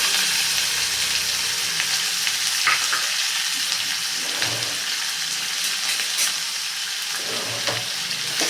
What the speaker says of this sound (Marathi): कांदा आपल्याला थोडासा गुलाबी रंगावरती छान परतून घ्यायचा आहे